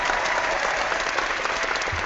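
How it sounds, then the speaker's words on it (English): Brief, steady applause from an audience at a talk on cults, a dense even patter of many hands filling the whole moment with no voices over it. "Oh, I got two applause."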